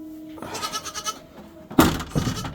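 A goat bleats a couple of times on a farm, the wavering calls fairly close over quiet background noise.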